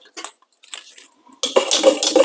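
A utensil stirs a cheese cake batter with melted, cooled butter in a bowl: a few light clinks and taps, then a close, steady run of scraping and mixing.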